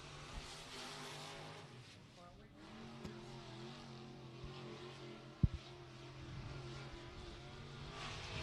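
Race car engines droning around Beckley Motor Speedway during Elite Racing Series qualifying, a steady distant roar under an announcer's talk.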